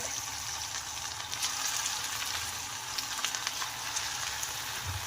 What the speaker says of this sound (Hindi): अब हम इसमें ये डाल के फ्राई करेंगे